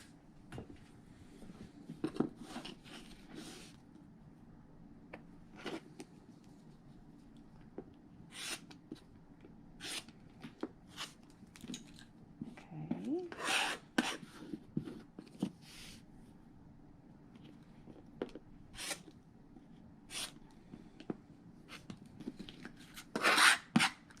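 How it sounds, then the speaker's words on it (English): Half-square triangle quilt pieces are trimmed with soft, scattered rasping and scraping strokes of fabric cutting, mostly faint, with a few sharper clicks and brief louder cuts spread irregularly through the stretch and no voices. "here we're going to go ahead and trim down the half square triangles"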